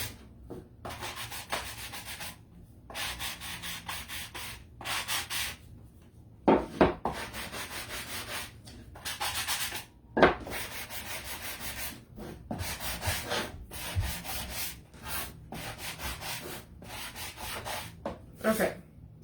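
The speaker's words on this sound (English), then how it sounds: "And then I'll probably sand some of this a little bit." Hand sanding on the back of a craft sign, a rhythmic back-and-forth rasping in repeated strokes broken by short pauses, close and clear, with no talking.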